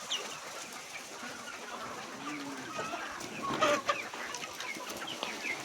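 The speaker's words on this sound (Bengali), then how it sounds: "কোয়েল বাট আছে, কোয়েল পাখি কয়" Japanese quail and other poultry at a hatchery farm cluck and chirp faintly amid a noisy, busy background, with a slightly louder flurry of bird calls partway through.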